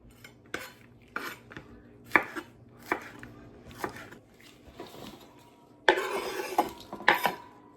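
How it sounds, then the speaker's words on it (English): Jalapeno peppers sliced with a knife on a cutting board, sharp close chops at an uneven rhythm, ending in a louder burst of rustling and clattering as the slices are moved, with no talking. "I have sliced up all of those jalapenos, all 3 pounds."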